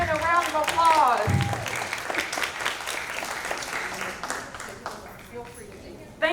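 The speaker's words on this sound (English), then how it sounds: "give Principal Robinson a round of applause" Audience applause at a school district advisory board meeting, a sustained wash of clapping that swells early and slowly fades over several seconds, with a voice speaking over it.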